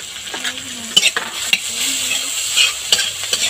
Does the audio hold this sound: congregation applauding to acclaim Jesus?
no